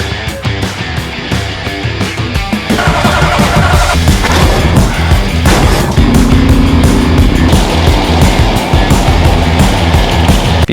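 A GMC K2500 farm truck engine turns over and runs loud and steady, a broad rough rumble that carries through the whole clip with no talking.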